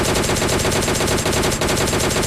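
Rapid automatic gunfire from a PUBG Lite match, a dense continuous burst of loud, closely spaced shots filling the whole moment with no pauses.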